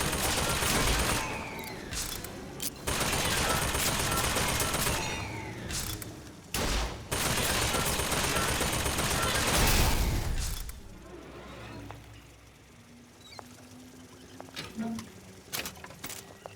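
Gunfire in BioShock Infinite: Burial at Sea, with rapid, dense volleys of shots and mechanical clatter for about ten seconds, then quieter scattered sounds and occasional faint clicks.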